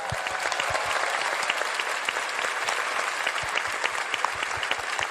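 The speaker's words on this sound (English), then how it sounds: "Massive round of applause." A convention hall audience at PAX West gives steady, dense applause for a video game director, with many hands clapping continuously and evenly throughout.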